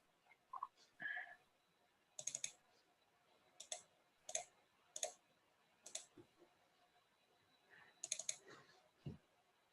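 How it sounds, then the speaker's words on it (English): Sharp clicks of a computer keyboard and mouse, heard as scattered taps in small irregular bursts, close and fairly quiet in an otherwise silent room. "I can hear you clicking, so I'm guessing you're not muted."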